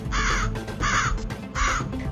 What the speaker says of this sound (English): many crows started coming down to peck at them all